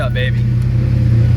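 Turbocharged Ford Mustang Foxbody V8 firing up from cold after sitting for months, a loud, steady low engine rumble right up close with a brief jangle of keys and a person speaking over it.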